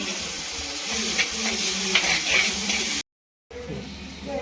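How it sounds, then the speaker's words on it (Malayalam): Onion, tomato and coconut pieces sauté in a pan for a prawn theeyal, giving a loud, close, steady sizzle with light stirring scrapes that cuts off briefly near the end, then resumes more quietly. "ഉള്ളിയും തക്കാളിയും തേങ്ങയൊക്കെ നല്ലതുപോലെ വഴണ്ട് വന്നിട്ടുണ്ട്"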